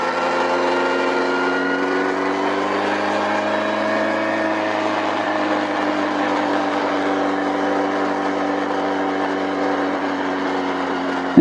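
A 2025 Honda CB1000 Hornet SP four-cylinder motorcycle engine while riding, a loud, steady drone with a smooth harmonic hum holding nearly constant revs, close and uninterrupted with no talk.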